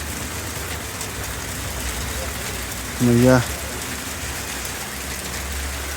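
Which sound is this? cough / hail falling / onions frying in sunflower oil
hail falling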